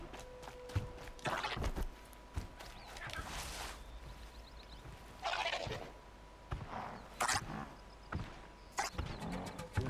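A turkey-like creature gobbles repeatedly in the video game Horizon Zero Dawn, loud bursts of warbling calls mixed with footsteps and game sound effects.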